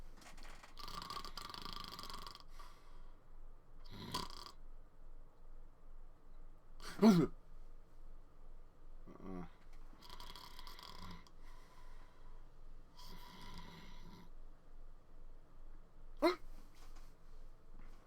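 A person imitates struggling to breathe while asleep, making a series of rough snoring and gasping bursts separated by quiet gaps, some strained and louder than others, close to the ear.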